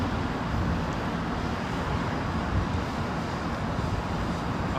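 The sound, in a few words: airplane at London Heathrow Airport runway 27L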